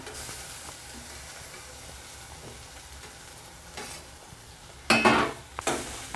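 Grated carrot and curry leaves sauté in a pan with a low, constant sizzle, then louder bursts of scraping and hissing as the mix is stirred near the end.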